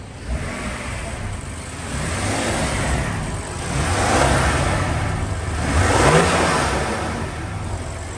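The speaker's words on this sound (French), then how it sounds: "pour voir si on entend l'admission." A BMW M3/M4 engine fitted with a front-mounted VRSF intake revs up twice in swelling waves, the airy intake whoosh rising and falling over a steady idle, close and fairly loud with no talking.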